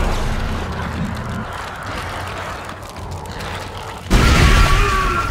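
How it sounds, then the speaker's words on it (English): A big explosion goes off in Dead Space aboard a ship, a low rumbling drone swelling before a sudden loud burst near the end that stays heavy and sustained. "I didn't think the explosion was gonna be that big."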